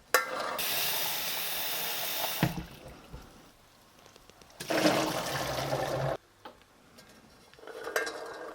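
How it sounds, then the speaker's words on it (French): Lacto-fermented legumes rinsed under a running tap to wash away leftover foam, water gushing loudly in two long bursts with quieter clinking and handling between them. "J'en profite pour rincer encore un petit peu aussi, histoire d'éliminer toute la petite mousse qui aurait pu rester en suspens ou coincée"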